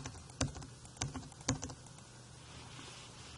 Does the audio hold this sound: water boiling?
no